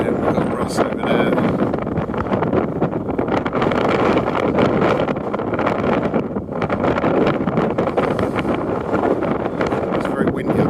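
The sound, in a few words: wind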